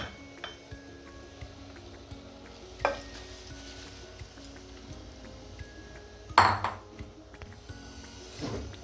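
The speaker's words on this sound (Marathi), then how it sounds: "तूप घालून घेऊ एक चमचा चांगलं परतून घेतलं" Rice stirred and fried in a spoonful of ghee for veg pulao in a pressure cooker pot, with a soft steady sizzle broken by a few sharp scrapes and clinks of a spoon against the metal pot.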